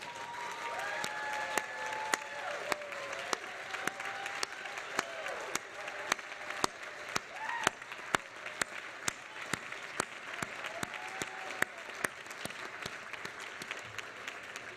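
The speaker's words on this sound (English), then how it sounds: "So one more round of applause for them." Sustained audience applause at an annual meeting and induction ceremony, honoring newly inducted members; dense steady clapping from a sizable crowd continues for the full stretch, with some louder individual claps standing out near the front.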